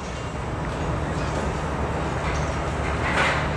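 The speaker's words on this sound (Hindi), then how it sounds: "पाक बिजनेस एक्सप्रेस भी रवाना हो चुकी है" The Pak Business Express pulls out of Lahore railway junction as a steady, fairly loud rumble of moving rail cars and engine, with faint clanks and a brief hiss near the end.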